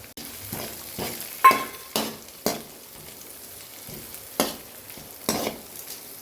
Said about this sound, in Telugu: ఇప్పుడు పచ్చిమిర్చి వేసుకుంటున్నాను రెండు కట్ చేసి వేసుకుంటున్నాను